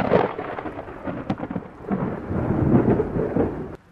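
Heavy rain with thunder: deep rolling rumbles swell and fade over a continuous wash of rainfall, loud and close throughout.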